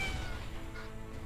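A cartoonish cat meows once in a video game, an explosive cat character, short and fairly faint with no talk over it.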